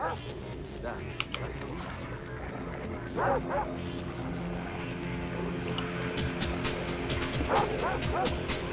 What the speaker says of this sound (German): Ich hab den Hund getroffen.